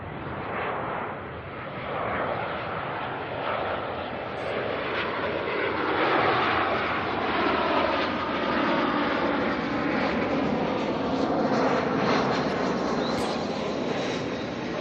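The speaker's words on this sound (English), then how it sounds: "Jetstar JQ236 coming in from Christchurch" A Jetstar passenger jet arriving at Auckland Airport makes a steady, broad engine roar that stays loud and close for the whole stretch, with no voices over it.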